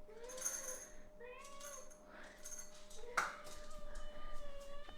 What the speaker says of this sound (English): I'm going to have to stop and wait until you guys stop meowing.